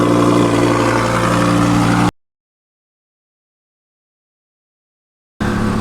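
An Audi R8 V10 Plus with a new, very loud aftermarket exhaust, its valves open, revs hard with a dense, roaring engine note. The roar cuts off into about three seconds of dead silence, then returns.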